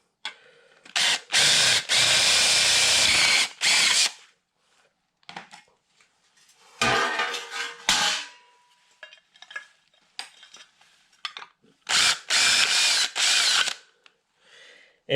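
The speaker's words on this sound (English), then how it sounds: "okay, so now we'll drill a hole." A power drill bores a bolt-sized hole on a homestead vegetable garden project, running in several loud bursts of a few seconds each with quiet gaps and small handling clicks between.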